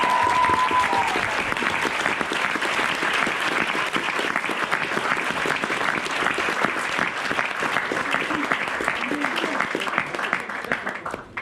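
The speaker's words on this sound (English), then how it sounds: "Round of applause." A crowd gives a chef a long round of applause: loud, continuous clapping that holds steady for about ten seconds before tapering off, with a few voices mixed in underneath.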